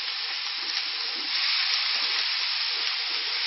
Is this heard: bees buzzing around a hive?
no